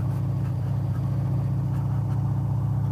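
A motorcycle ridden on a beach, a steady close engine drone with a low, even rhythmic throb that holds at a constant level throughout.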